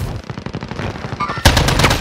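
Rapid automatic gunfire in a video game, sustained close bursts that grow louder and denser partway through.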